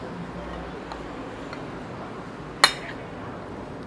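A freshly mashed seafood dish with octopus is mixed by the seaside in Heraklion, Greece. It brings one sharp, close clink of a utensil against a dish, set over a low murmur of outdoor background noise.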